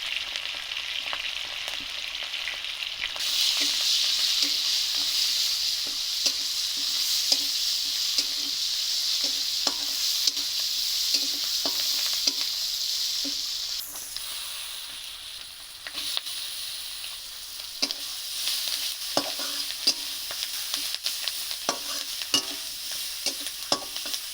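Shrimp stir-fries with leafy greens and turmeric in a hot pan, a steady sizzle broken by frequent scraping and stirring clicks of a utensil throughout.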